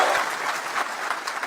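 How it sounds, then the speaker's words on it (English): Rally audience applauding in a large venue, a dense, steady wash of clapping that holds at an even level for the short stretch. "Another round of applause."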